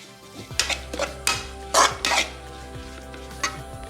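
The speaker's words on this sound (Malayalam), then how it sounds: "എന്നിട്ട് നമുക്ക് നല്ല രീതിയിൽ അതൊന്ന് മിക്സ് ചെയ്തെടുക്കണം." Spice powders being stirred in a pan: chilli, coriander and black pepper. Several sharp scraping and clinking strokes of a spoon come over a low, quiet sizzle, close and uneven in rhythm.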